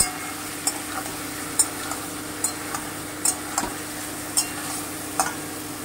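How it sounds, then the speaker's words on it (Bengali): Chicken pieces fry in an oil-filled pan, producing a constant bright sizzle overlaid by regular tapping and scraping of a spatula every half second or so, near and clear without any speech. "চিকেনগুলোকে দিয়ে দিচ্ছি। দিয়ে আমি একটু ভালো করে ভেজে নেব, যতক্ষণ চিকেনে একটা কালার না আসছে।"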